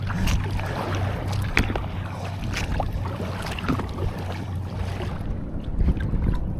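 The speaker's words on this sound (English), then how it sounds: "these are beam seas right here, crazy" Beam seas slap and wash against the side of a paddled kayak in open coastal water, a close, continuous churn of water and wind noise with irregular splashes and no talk.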